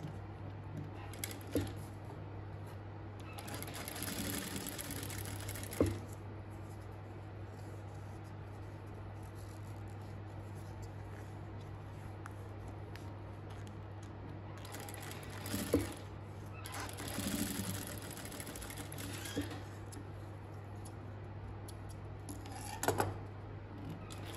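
A sewing machine stitches along both sides of a handbag with black thread, a steady low motor hum running throughout, broken by intermittent bursts of rapid needle clatter and a few sharp clicks.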